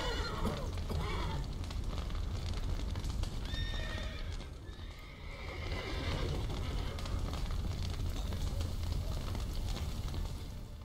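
Horses neigh and whinny amid clip-clopping hooves in The Witcher 3: Wild Hunt, with a crackling fire beneath. The sounds are fairly loud and continuous, with several whinnies layered over the steady hoofbeats.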